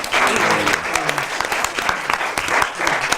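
A small live audience applauds after a script reading of "Jigsaw," a dense, steady clapping that fills the room from start to finish with a voice briefly audible underneath.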